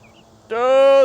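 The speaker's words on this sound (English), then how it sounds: "Oh, we're getting guineas too." A guinea fowl, with turkeys around, gives a loud, close, sustained harmonic call lasting about half a second, preceded by a faint short chirp.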